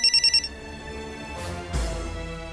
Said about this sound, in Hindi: संजय सर का फोन है।